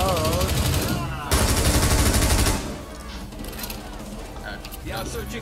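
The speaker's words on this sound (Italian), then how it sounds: "Ti ho sparato una volta." Rapid automatic gunfire in the tactical shooter game Rainbow Six Siege, loud sustained bursts of shots followed by quieter game noise and mechanical clatter, with players talking over it.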